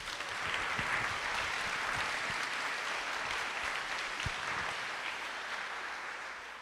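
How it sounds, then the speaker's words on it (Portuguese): A church audience applauds in steady, continuous clapping that fills the whole stretch at moderate distance, easing off slightly toward the end. "Pode aplaudir, pode aplaudir."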